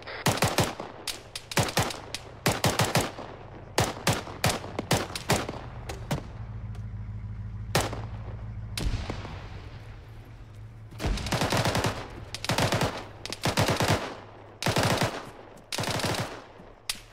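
Machine gun fire in the military shooter ArmA 3, loud irregular bursts and single shots, some close and sharp, interrupted by a low rumbling stretch, with further bursts resuming.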